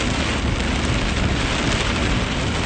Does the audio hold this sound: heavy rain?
yes